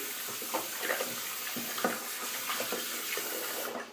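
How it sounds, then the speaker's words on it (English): A bottle is rinsed under a running bathroom tap, with continuous splashing water and uneven gurgles and sloshes as it fills and empties, close and steady until the flow cuts off at the end. "I will rinse that bottle out and put it away"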